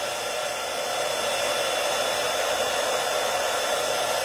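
A heat embossing tool blows hot air onto a card, a loud, steady close-up fan roar that runs unbroken for several seconds with no speech.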